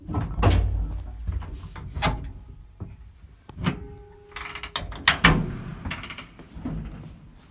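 Original early-1960s elevator doors in an old Zagreb skyscraper lift clatter and thud, with several separate knocks, a metallic scrape and a brief rattle, close and moderately loud.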